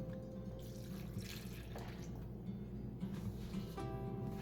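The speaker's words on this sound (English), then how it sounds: "we mix our lye water together and pour it over the hard oils while the lye water is still hot" Hot lye water poured over cocoa butter and coconut oil for a one-pound batch of rose garden soap, a steady liquid trickle and splash running continuously and fairly close.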